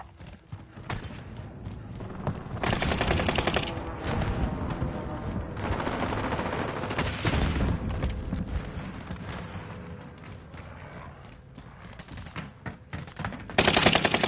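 Rapid bursts of automatic gunfire and heavy booms in Call of Duty Warzone crackle loudly and almost continuously, easing off before another sharp burst near the end.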